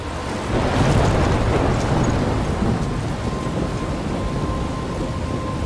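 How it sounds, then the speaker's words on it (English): Heavy rain and rolling thunder from a storm in the video game Life Is Strange, a steady loud downpour with a deep rumble swelling near the start, heard alone without voices. "I'm trapped in a storm."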